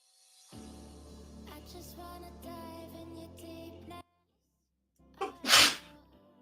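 Music plays for several seconds, falls silent, then one loud, sharp sneeze bursts out nearby.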